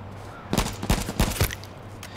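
A quick burst of several gunshots cracks out in an irregular rhythm, then fades: gunfire in the video game H1Z1 heard through speakers.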